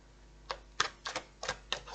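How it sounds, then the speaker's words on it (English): Soft, quick flicks and snaps of tarot cards being shuffled, about six short bursts in an irregular rhythm, close and quiet. "Give this a little shuffle through a bit more."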